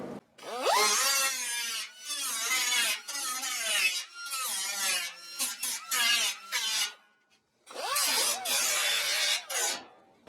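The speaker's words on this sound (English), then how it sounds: "I'm going to have to grind off of this edge right here." Grinder working the edge of a Dynacorn roof panel on a 1969 Mach 1 Cobra Jet, loud close passes of shrill rising and falling whine in repeated bursts with short breaks.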